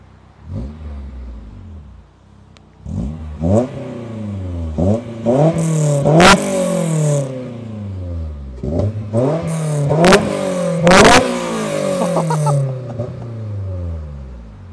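A Honda S2000 engine is started and then revved several times close by. Each rev sweeps up and falls back in a loud, rising and falling whine, with short idle gaps between the blips.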